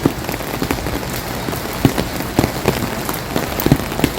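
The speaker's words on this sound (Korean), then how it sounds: "지금 대구는 비가 오고 있습니다" Steady rain pattering on a hard surface in Daegu, South Korea, with scattered louder drips landing close by throughout.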